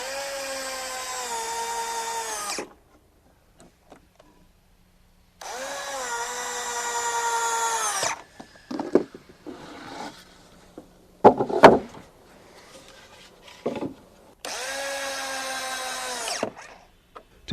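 A power drill driving 3-inch corrosion-resistant screws into deck balusters, loud and close, in three long whirring runs separated by silence and clattering handling noises.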